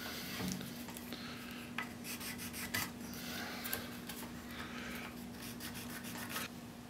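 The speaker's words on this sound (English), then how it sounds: "I'll take a shim like that, scribe a line, flip it, scribe a line" A thin shim drawn across wood to scribe layout lines for fitting a square tang tool into a wooden handle gives a close, continuous scratchy rubbing with short strokes and a steady faint hum underneath.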